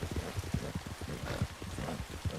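Horse hooves from Red Dead Online pound in a quick galloping rhythm of repeated heavy thuds, fairly faint and alone, with no talk.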